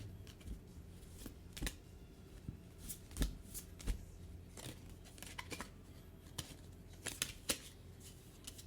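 Tarot cards being handled, shuffled and flipped, giving a series of crisp slaps and riffling flicks at close range, with quiet rustling in between.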